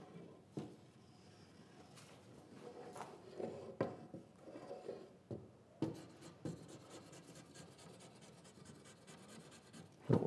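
Glue being spread in a zigzag across wood for a lamination on a workbench build, a soft irregular scraping and rubbing close by, in short strokes with a few sharper taps, no talking.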